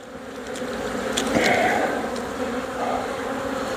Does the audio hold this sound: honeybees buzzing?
yes